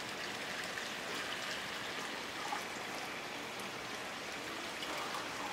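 Water pours steadily into a cooking pot set to boil in a home kitchen, a continuous rushing splash that runs evenly throughout with no voices.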